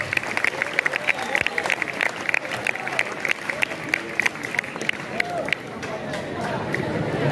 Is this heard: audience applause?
yes